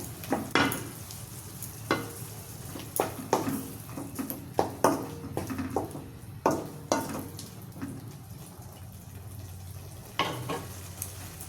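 A soy-chunk Manchurian sauce mixture with chili flakes and lemon juice is stirred in a sizzling pan, a spoon scraping and clinking against the metal in repeated strokes over a soft frying hiss.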